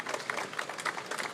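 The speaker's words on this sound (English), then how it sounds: "And maybe a round of applause for our speakers," Brief applause from a conference audience at a live CEO roundtable on mobility, a short patter of claps at moderate level with individual hand claps standing out.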